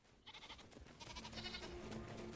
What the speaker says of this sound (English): now we have another adult goat